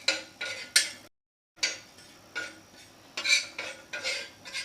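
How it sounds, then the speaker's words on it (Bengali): Cumin and coriander powder being stirred in a dry pan, a spoon scraping and clinking in short rhythmic strokes, close and fairly loud, with one brief pause. "সামান্য একটু নেড়ে নেব।"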